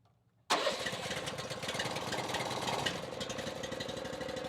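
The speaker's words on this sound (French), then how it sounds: "Il y a un petit moteur ici qu'on va partir à l'instant." The small engine on a tree-trimming wood chipper cranks and catches abruptly, then settles into a steady, loud, rattling idle with a fast knocking rhythm, close by and alone.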